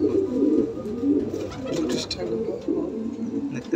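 Pair of black house pigeons with trimmed foot feathers in a fancy pigeon loft, cooing in soft repeated low burbles, close by, while a person talks over them.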